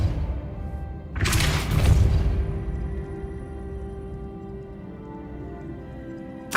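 A Depulso spell cast in Hogwarts Legacy during a Herodiana Byrne puzzle, heard as a single loud booming thud that swells suddenly and then settles into a low rumbling tail, with no talking.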